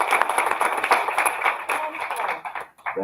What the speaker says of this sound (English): Would you all please give her a welcome applause?